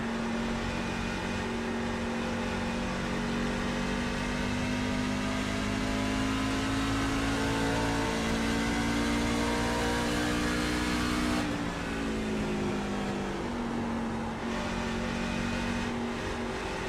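NASCAR Truck Series trucks at Phoenix accelerating on a green flag restart, a loud continuous engine roar with rising pitch that dips briefly and swells again, many engines blended together and no voices.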